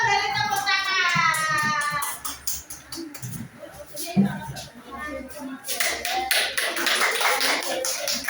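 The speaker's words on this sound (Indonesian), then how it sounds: "Kelompok 2 beri tepuk tangan." A classroom group claps for group 2 during a micro-teaching lesson, a burst of scattered hand claps amid children's chatter, rising again toward the end with the teacher's voice over it.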